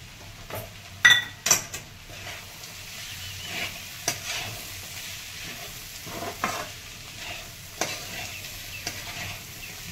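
Potato curry stirred in a frying pan with roasted peanut crumble and red chili powder, giving soft sizzling under scattered scrapes and clinks of a spoon against the pan, louder knocks early on, no talk.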